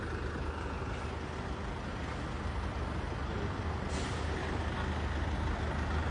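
A London city bus passes on the road as steady, loud traffic rumble fills the street, with a brief hiss near the end that may be an air brake.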